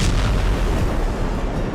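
Russian artillery strikes on a Ukrainian military position in Kupiansk produce a loud, rumbling roar of blasts that fills the short stretch, heavy and booming with no talk over it.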